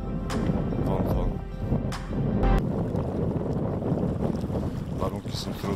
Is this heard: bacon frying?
no